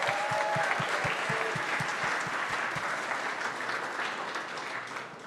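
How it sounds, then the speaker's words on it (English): Audience applause for a program leader at a startup demo day event, a dense steady wash of clapping from a crowd that holds for several seconds and slowly eases off, with faint crowd noise underneath. "A round of applause for Judy"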